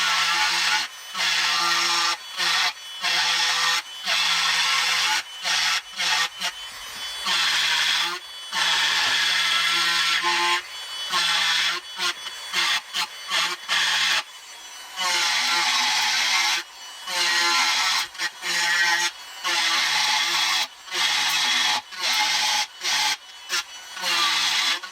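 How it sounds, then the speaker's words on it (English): A Dremel power carving tool grinds into a wooden slat for a gnome door, giving a loud high whine in repeated bursts with short gaps between passes, close and dominant throughout. "I'm going to continue carving this because I can't talk over the noise of this machine."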